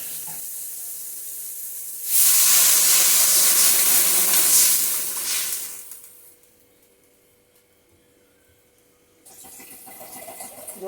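Water is poured into a hot pan of melted tomatoes and spiced oil, erupting in a loud, sustained sizzle and hiss of steam that fades to quiet before a softer bubbling returns.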